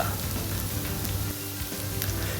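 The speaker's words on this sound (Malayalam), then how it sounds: "അഞ്ച് അല്ലി വെളുത്തുള്ളി ചോപ്പ് ചെയ്തത് അതിലേക്ക് ഇടുക അതിനുശേഷം കൊച്ചുള്ളി എട്ട് പീസ് ചോപ്പ് ചെയ്തിടുക" Chopped garlic cloves and shallots sizzle steadily in hot oil in a pan, a dense continuous crackle without pauses and no voices over it.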